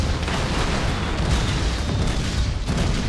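A cannonball explosion hits a ship in the Skylanders video game on the Pirate Seas level. It comes through as a dense, sustained rumbling blast with crackling noise, loud and continuous, and no one speaks over it.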